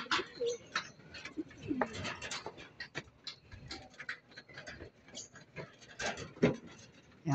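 Domestic pigeons coo softly at a loft, low repeated coos scattered among faint rustling and ticking, with someone speaking quietly at times.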